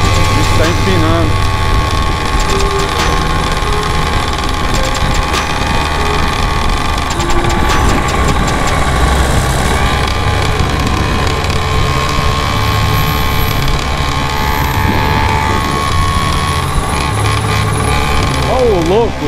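Walk Machine 210cc motorcycle engine revving hard during a wheelie on a Sunday group ride in Santo André, a steady loud drone throughout with people talking over it.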